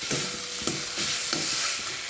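Spices being stirred in a frying pan for potato curry: a constant hiss of frying with regular scraping strokes of a spoon about every third of a second.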